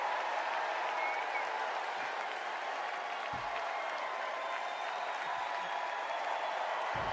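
Steady applause from a convention audience, faint and distant, holding evenly without pause or voices.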